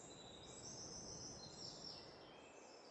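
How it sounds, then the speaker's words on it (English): Birds calling in Farming Simulator 22 ambience, high thin chirps and tweets drifting over a faint, steady wash of background noise, quiet and distant. "you can hear lots of bird sounds"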